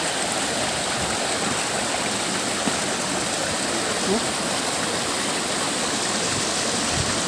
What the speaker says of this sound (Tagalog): Sa ibabaw ng talon.